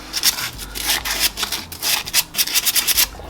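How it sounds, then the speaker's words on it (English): Green sandpaper scrubs rust off a 2011 Toyota Corolla rear brake drum in quick back-and-forth strokes, a rhythmic, gritty rasp close to the mic with no talking. "Sandpaper. The green one is the best."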